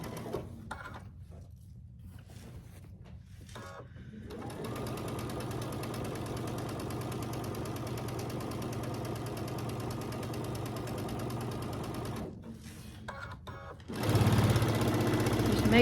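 Sewing machine running steadily for a long stretch while stitching a quarter-inch seam down a row of a quilt top, with brief pauses near the start and a louder burst at the end.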